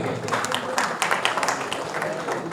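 An audience claps steadily in welcome for guests at the opening ceremony of the Markhor T-10 Champion Trophy 2022 cricket event, a dense, even patter of many hands filling the space.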